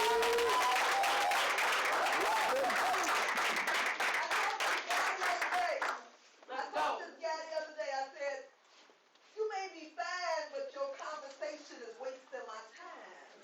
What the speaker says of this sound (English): I need everybody to give a great big round of applause for our